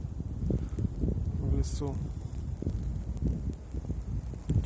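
Wind roars through a winter forest during a heavy snowstorm at about minus twenty, a steady low rushing that carries on without a break, with a brief spoken voice partway through.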